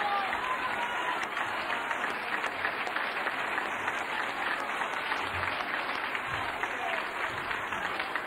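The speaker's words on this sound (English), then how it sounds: "Somebody ought to clap for Laura P." Banquet audience clapping steadily for a woman being honored at a 1994 recovery convention gathering, a dense, sustained wash of applause from a large room with faint voices mixed in.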